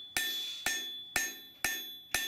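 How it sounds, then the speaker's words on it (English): Five sharp hammer blows ring out alone at a steady half-second rhythm as a full-tang knife blade is forged over the edge of an anvil, each strike bright and metallic with a short decaying ring. "I'm lipping over my anvil edge and I'm starting to thin it out."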